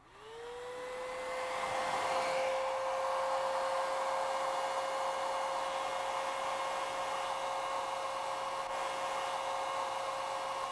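A hot air blower heating a bimetal strip in a physics lecture demonstration: a steady, loud whirring hum that spins up within the first second and holds evenly to the end, with no talking.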